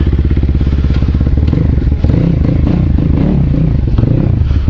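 A BSE Z7 motorcycle engine running loud and close, a dense, steady rumbling idle with clattering mechanical noise and slight rev variations throughout.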